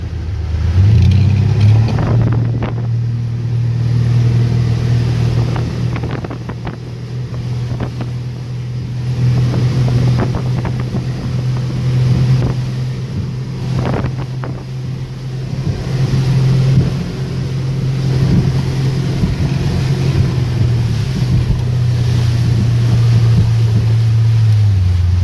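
An old motorboat engine runs at speed on choppy Deep Creek Lake in Garrett County, Maryland, a loud, steady, close drone with water slapping against the hull throughout.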